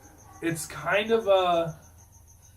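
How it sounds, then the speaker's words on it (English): Crickets chirp steadily in the background, a faint continuous high trill running beneath a person talking in the foreground. "you can definitely hear the crickets a lot easier."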